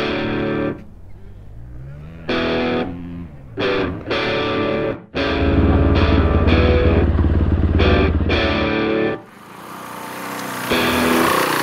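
A Fantic Caballero Rally motorcycle engine revving in loud bursts, cutting off and roaring back repeatedly, then settling into a steady close idle and rev.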